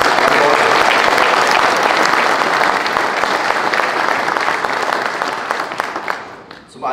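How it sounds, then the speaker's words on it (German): A crowd at a political party event applauds after a speaker's call for thanks, with dense continuous clapping that stays loud and then thins and fades near the end. "Ich denke, dies ist ein ganz großer Applaus nochmal wert von uns."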